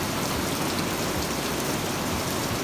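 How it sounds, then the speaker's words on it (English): Pouring rain in the Ozarks of Missouri in late November, a loud, continuous broadband roar with no breaks or voices. "Thunder and lightning and rain"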